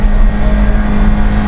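A remapped petrol Toyota Innova pulls hard in second gear, its engine holding a loud, steady, close drone as it accelerates.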